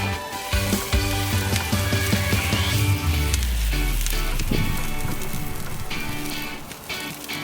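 Chopped garlic and vegetables sizzle in a cast iron pan at a wood-fired oven, making a dense, steady crackling fry that stays loud and close throughout.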